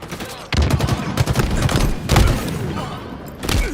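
A grenade blast and bursts of rapid gunfire ring out in a hill-control match of an online shooter, loud and close, with repeated sharp shots and heavy thuds throughout.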